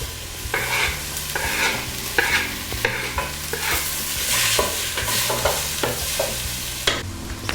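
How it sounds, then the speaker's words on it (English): Onion sautéing in melted butter in a pan, a continuous loud sizzle with repeated scraping and stirring strokes throughout, nothing spoken. "So I'm going to saute the onion"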